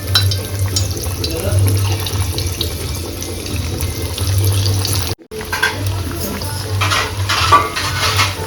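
Coriander vadi (kothimbir vadi) frying in hot oil gives a steady, close hiss of sizzling that cuts out briefly about two-thirds through, then resumes with some brighter crackles.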